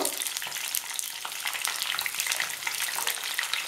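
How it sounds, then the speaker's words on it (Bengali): Cauliflower pieces fry in hot oil in a pan, giving a loud, close, steady sizzle with bubbling crackle and occasional light stirring clicks throughout, with no talking. "তেলটা গরম হয়ে গেছে, আমি ফুলকপিটা দিয়ে দিচ্ছি। দিয়ে আমি ফুলকপিটাকে ভেজে নেব।"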